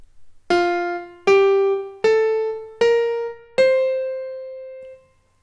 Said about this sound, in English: what marcato means is that you mark each note so that there's an accent and then there's a bit of breath